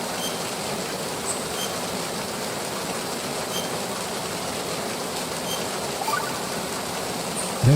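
Steady, even rain from the video game Metal Gear Solid 2, a constant loud hiss spread evenly throughout, with no voices over it.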